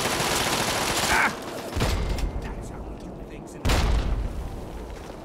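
A grenade blast and bursts of gunfire ring out in the Fallout 3 video game during the Operation: Anchorage combat, with loud dense crackling shots, sudden booming surges and brief quieter gaps between them.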